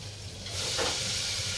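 Valor beans dropped into hot tempering of asafoetida, turmeric and tomato in a pan, a quiet hiss that suddenly swells into a loud, steady sizzle and keeps going.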